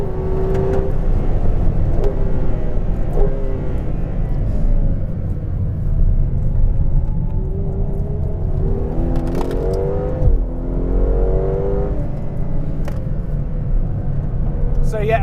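Ferrari 812 Competizione V12 at full throttle on the Fiorano circuit, a loud, sustained engine roar that climbs through rising revs, shifts down and surges again, with speech heard faintly in the cabin.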